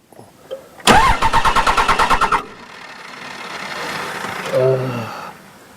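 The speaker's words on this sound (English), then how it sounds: "give me a 3-second crank" A 2001 Ram 3500 diesel pickup with a VP44 injection pump cranks for about a second and a half, a loud fast rhythmic starter churn at close range that stops without catching, followed by quiet shop noise and a brief voice.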